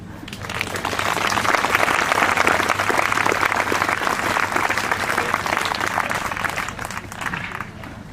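A crowd at an interfaith vigil at a skate park applauds, with sustained, dense clapping that swells quickly, holds steady for several seconds and tapers off slightly at the end.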